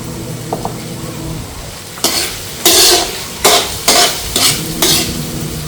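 Ginger sautés in a pan with very little oil for goto, a low sizzle first, then a run of loud, rhythmic spatula scrapes and clanks against the metal, about five strokes close up, with no voices.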